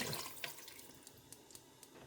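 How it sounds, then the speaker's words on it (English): Water poured into a pot of lamb chops cooked oxtail style, a light trickling flow with soft drips and splashes spread over two seconds, close and quiet with no talk. "I'm pouring the 2 cups of water in there, mixing that around"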